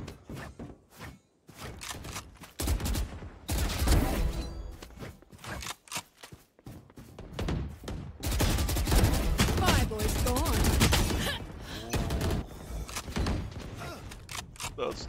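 Rapid automatic gunfire in a Valorant deathmatch, loud, dense bursts of shots fired back to back with short gaps between sprays, plus mechanical clicks and rattles between bursts.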